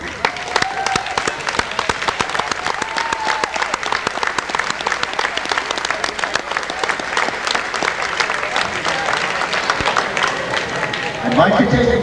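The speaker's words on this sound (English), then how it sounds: "I'd like a big round of applause and have him stand up." Sustained audience applause fills a tournament gym at a youth basketball championship, steady dense clapping from a crowd lasting throughout, with a brief rustle of movement near the end.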